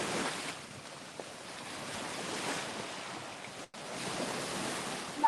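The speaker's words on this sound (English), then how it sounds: "Now the waves are getting a little more strong, a little strong, a bit too strong for me" Ocean surf rolls in steadily at Hollywood Beach, a continuous broad wash of breaking waves mixed with wind buffeting the microphone, with one brief dropout.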